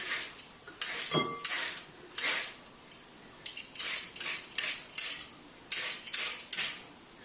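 A vegetable peeler drawn along a raw vegetable to cut it into thick noodles: a run of short, crisp scraping strokes in uneven bursts with brief pauses between them, close and fairly loud, no talking.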